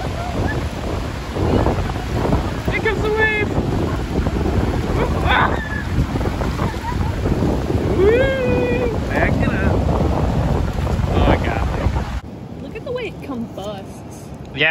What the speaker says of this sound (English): back on the windy beach